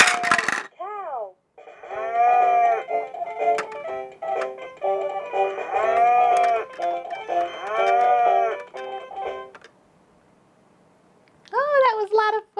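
A toddler's drum toy plays a recorded cow moo several times in a row, close and loud, with short musical chimes between the moos.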